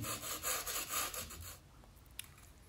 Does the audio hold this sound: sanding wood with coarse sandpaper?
yes